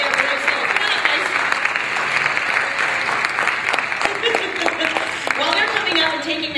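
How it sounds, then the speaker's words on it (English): A comedy improv show audience gives a big round of applause as volunteers come up on stage, sustained loud clapping with some cheering and voices mixed in throughout. "Let's give them a big round of applause."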